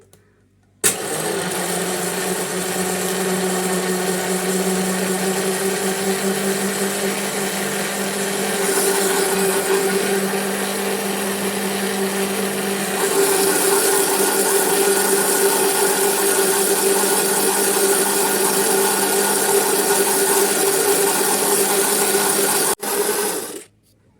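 An electric mixer runs steadily, whisking cake batter ingredients with sugar and vanilla into a pale mixture for a flourless cake. It keeps a continuous loud whirring hum, starting abruptly and shifting slightly in pitch partway through before cutting off at the end.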